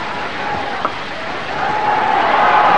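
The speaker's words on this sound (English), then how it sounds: "And the anticipatory clapping starts" A cricket crowd at a 1994 one-day match in Colombo, Australia against India, sends up a steady, building wash of clapping and hubbub while awaiting Tendulkar's century, swelling in the last second.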